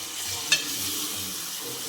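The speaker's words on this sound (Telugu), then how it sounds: "చికెన్ని దీంట్లో యాడ్ చేసేసుకుందాము." Marinated chicken for a chicken curry meets a hot pan, giving a steady close sizzle and frying hiss with a brief sharp clatter as the pieces drop in, no talking.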